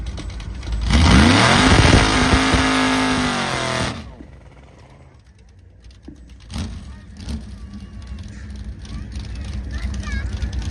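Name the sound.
1964 Chevy drag racing down the airport strip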